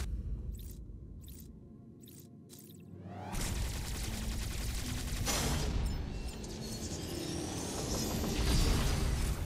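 Rapid bursts of gunfire and clanking mechanical effects fill a Metroid Dread boss fight, with heavy booming impacts building in loudness toward the end.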